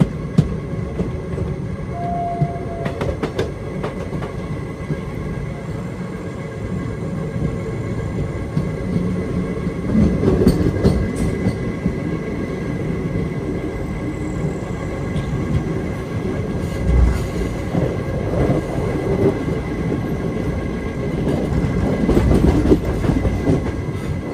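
Sai Nagar Shirdi to Tirupati Express running near Rajampet, a steady loud rumble of the coaches with rhythmic clickety-clack over the rails, swelling at times, with no talking.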